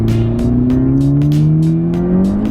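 A Honda Civic Type R fitted with a Hondata tune accelerating hard in second gear, a loud in-cabin engine drone rising steadily in pitch with rhythmic turbo whooshes, no talking.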